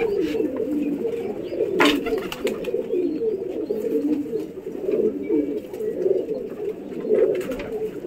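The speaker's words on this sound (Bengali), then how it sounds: "এই যে পায়রা এখন দেখুন" Several pigeons coo in low, throaty, overlapping calls close by, continuing throughout with faint rustling and a brief sharp noise partway.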